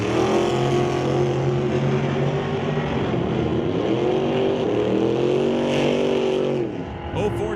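A 1978 Camaro Z28 drag race car roars at a racetrack, a loud sustained engine howl rising and shifting in pitch, with an announcer talking over it before it cuts off near the end.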